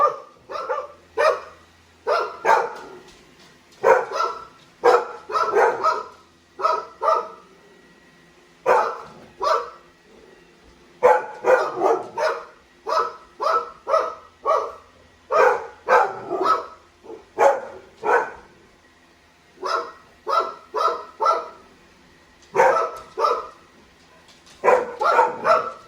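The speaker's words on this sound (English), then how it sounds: "you don't even know what you're barking at" Several pet dogs in a country home bark in bursts of sharp, repeated barks with short pauses between volleys, close and loud, with no talking over them.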